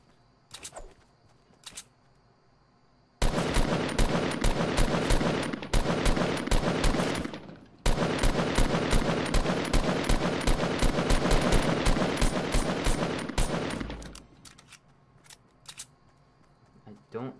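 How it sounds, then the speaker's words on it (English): Rapid bursts of automatic gunfire in a Fortnite Battle Royale match, two long dense volleys broken by a brief pause, fairly close and loud, with players talking faintly before and after. "Don't think he finished his gunfight with the kid."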